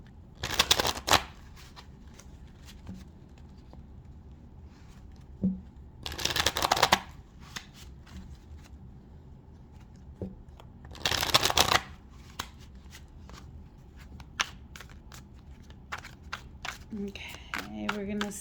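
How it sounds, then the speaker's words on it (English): Tarot cards are shuffled in three brisk riffles spread across a quiet room, with soft taps and handling sounds in between. "let's just get these cards shuffled real good"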